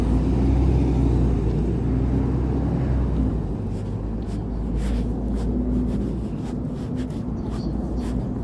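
Buses and cars rumble past on a Seoul street at night near Gwanghwamun, a low steady traffic roar with one vehicle swelling close early on, then fading into lighter city hum.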